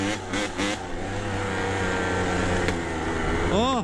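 A Kawasaki KDX200 two-stroke trail bike engine drones and revs on a trail climb, loud and steady with wind buffeting, and a voice is briefly heard over it near the end.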